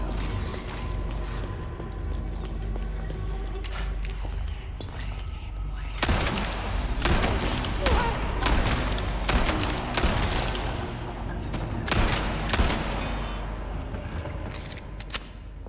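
Sniper rifle shots ring out in Resident Evil 4 Remake during a sewer fight. Several sharp, loud cracks land from the middle onward over a dense bed of game noise.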